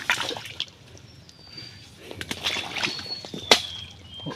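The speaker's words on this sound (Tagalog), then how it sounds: "umaarangkada na naman yung tubig mga kabraso" Water rushes and gurgles out of a muddy hole while someone digs for mud crabs, a steady splashing trickle with occasional drips and sharp splashes, and people talking over it.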